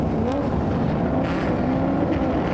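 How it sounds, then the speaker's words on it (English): Historic racing cars, including Rover SD1s, Ford Capris and a V12 Jaguar, accelerate together off a race grid, a dense, loud blend of engine roar and rising notes with wind buffeting the microphone. "Engine notes rise, the distinctive Rover rumble, the bark of the Capris, and the V12 engine note of the Jaguar."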